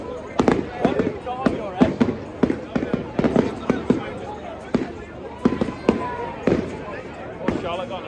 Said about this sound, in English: here's a little bit of a video of the fireworks last night over the top of the old David Brown factory